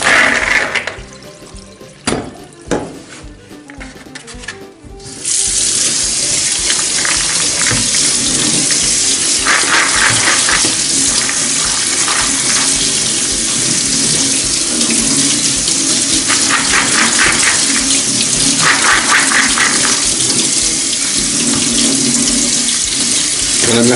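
Tap water runs steadily into a sink, rinsing soaked beans for a bean soup. After a few seconds of quieter handling noise, the loud, continuous splashing rushes on alone.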